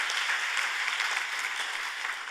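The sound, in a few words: round of applause welcoming speakers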